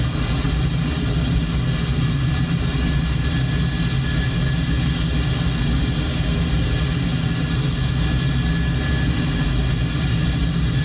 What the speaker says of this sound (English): Light the burners.